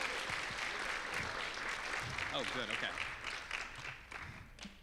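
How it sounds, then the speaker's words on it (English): Audience applause after a lightning talk at a scientific Python conference, sustained clapping from the room with a voice speaking briefly over it, fading out toward the end. "Let's give him a round of applause."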